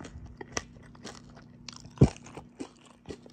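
Crunchy food, with green beans and bacon in a Lao lunchtime mukbang, bitten and chewed close to the mic: a few sharp crisp crunches, one loud bite near the middle, then softer crackly chewing.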